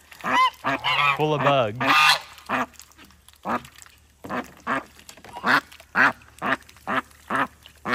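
Ducks dabbling for bugs in a clean swimming pool at a farm animal sanctuary quack and honk repeatedly, close and loud, first in a busy cluster and then in a steady rhythm of single calls, with a person briefly speaking.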